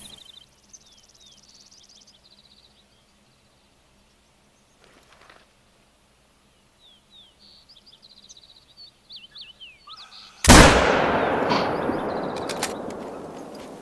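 A single loud hunting rifle shot in theHunter: Call of the Wild, hardcore mode, cracks sharply and rings out with a long decaying echo after a quiet stretch of faint bird calls.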